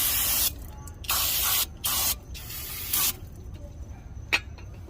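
Aerosol brake cleaner hisses in several bursts onto the front brake of a 2008 Toyota Avalon to clear brake dust, close and loud, with short pauses between sprays and a faint tap near the end.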